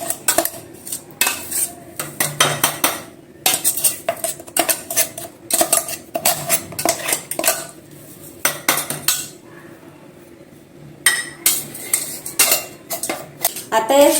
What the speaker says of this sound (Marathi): आता या बिस्किटाच्या चुराला आपल्याला या काचेच्या भांड्यात व्यवस्थित टाकून घ्यायचे आहे